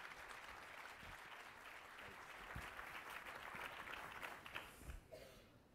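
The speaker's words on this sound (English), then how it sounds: "Let's give our panel a round of applause." Audience applause for a panel at a mayors' round table conference: a faint, distant, even wash of clapping that runs through the whole stretch with no talk over it.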